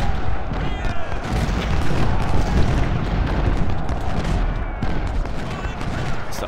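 Cannon and artillery fire in the Civil War strategy game Ultimate General: Civil War, a dense, continuous rumble of booms and volleys at loud level without pause.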